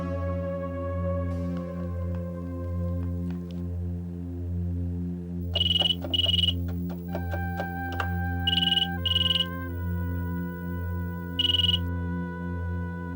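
A phone rings in short electronic bursts over a sustained synthesized melodic tone, with the ring pulses repeating in pairs and nobody talking.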